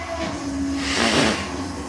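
Train approaching in a Sodor-style animated scene, a brief hissing rumble that swells toward the end as it draws near, with a low steady drone beneath.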